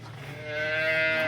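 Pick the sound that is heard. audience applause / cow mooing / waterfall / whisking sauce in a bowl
cow mooing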